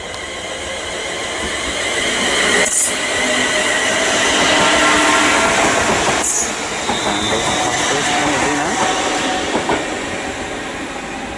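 A London Northwestern Railway service pulls out of Watford Junction toward Euston with a loud, steady rumble of wheels and motors, carriage noise building and holding, with a couple of sharp clanks along the way.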